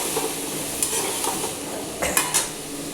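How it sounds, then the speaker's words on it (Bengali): A pan of potato curry with salt and turmeric is stirred over a steady sizzle, with a few soft scrapes and taps of the spoon against the metal, close up and without talk. "এই আলুর তরকারিতে নুন আর একটু হলুদ দিয়ে, যেরকম সাধারণ একটা আলুর তরকারি হয় সেই তরকারি করছি আজকে"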